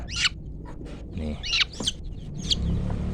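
A chicken clucks and squawks in short, sharp bursts during beak trimming, close and loud, with scuffling and handling noises between the calls.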